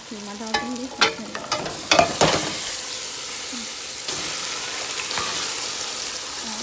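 Keema mince frying in a pan for a lasagna, opening with clattering utensil strikes and stirring, then settling into a steady close sizzle, no one speaking.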